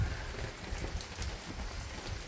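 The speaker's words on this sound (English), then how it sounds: "Got a little rain, a little wind, blowing things around." Steady rain and gusting wind from Hurricane Ian in Tampa, 2022, form a continuous, even wash of noise outdoors with faint patters and thumps and no voices.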